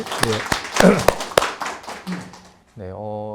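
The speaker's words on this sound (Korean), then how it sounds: "박수 한번 다시." Audience at a Korean public forum with a pro gamer from the T1 esports team gives brief scattered clapping, a few sharp claps rather than full applause, mixed with someone speaking, then a short tonal sound at the end.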